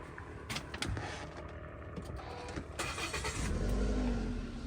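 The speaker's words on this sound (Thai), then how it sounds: "เดี๋ยวเรามาฟังเสียงเครื่องยนต์กันบ้างนะครับ" A 2014 Toyota Yaris 1.2 G automatic cranks and starts, its engine rising into a low, steady idle rumble, heard close and fairly quiet after some light clicks and movement.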